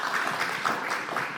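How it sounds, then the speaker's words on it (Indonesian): Brief, dense clapping from a community gathering, given as applause for the neighbourhood heads at a get-together ahead of a neighbourhood association election. The burst is short and even throughout. "Bisa tepuk tangan untuk para RT."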